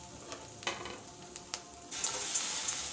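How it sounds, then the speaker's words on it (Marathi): Ginger paste and two green chilies frying in butter over a low flame, a quiet steady sizzle with a few soft stirring scrapes that swells louder toward the end. "अद्रकाची पेस्ट जी आहे बटरमध्ये छान अशी फ्राय करून घ्यायची"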